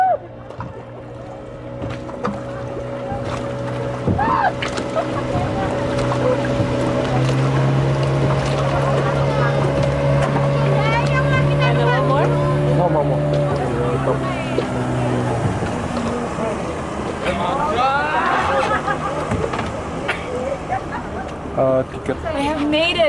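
A boat engine hums steadily up close during a lake crossing to Ulun Danu Beratan Temple in Bali for much of the stretch, then drops away, with a dog barking and whimpering at times.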